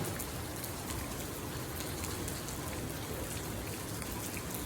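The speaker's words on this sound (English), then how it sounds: "And it's still raining." Heavy rain pours steadily onto waterlogged, flooded ground in Midwest City during a record-breaking downpour, a dense, continuous hiss of close raindrops with no pauses and no voices.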